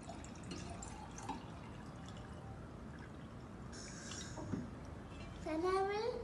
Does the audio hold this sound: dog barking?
no